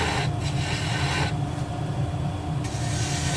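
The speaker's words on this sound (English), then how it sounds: "So gouge using spindle gauge. Now to get rid of some of the wood," A spindle gouge roughing down wood on a lathe to shape a snowman's hat gives a steady, continuous scraping hum over the spinning motor drone, with slight shifts in tone as the tool's cut changes.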